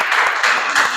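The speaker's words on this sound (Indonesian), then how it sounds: "Kasih tepuk tangan dulu untuk kelompok 1 supaya semangat." Classroom students clap for a group of classmates about to present, a short burst of lively applause with a few stronger pulses of clapping.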